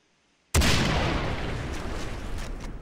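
After a brief hush, a single loud gunshot cracks out in Far Cry 3, hitting hard and close, then rolls into a long booming echo that fades slowly.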